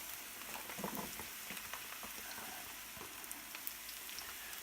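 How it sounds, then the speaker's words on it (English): Quartered cremini mushrooms and about five garlic cloves sizzle in a hot pan, a steady close crackling hiss with small pops, moderately quiet and continuous, no talking. "mushrooms, garlic, quartered creminis, and about 5 cloves of garlic right in a hot pan"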